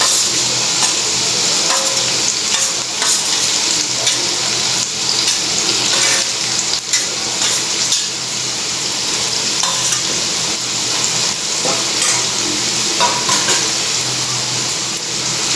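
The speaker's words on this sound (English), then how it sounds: "And fry it till the onion becomes translucent." Chopped onion, chilies and coriander frying in a pan for raw banana cutlets, a steady close sizzle with intermittent stirring scrapes, no voices.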